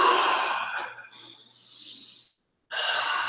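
A group draws deep breaths together, long audible inhales and exhales with a short silent pause before the next breath, close and fairly soft.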